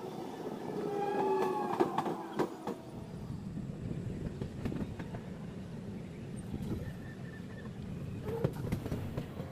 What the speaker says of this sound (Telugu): ట్రైన్ చాలా స్లోగా అయితే వెళ్తుంది